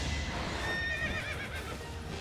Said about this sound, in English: I have a feeling the neighing of the horse is bleeding through on my mic.